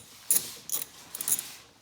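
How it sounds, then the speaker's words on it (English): A 10mm socket wrench clicks while loosening the battery terminal bolt on a 2018 Toyota Sequoia, a few quick metallic ratchet bursts close up in a quiet setting. "And we'll loosen the bolt that holds the terminal in place."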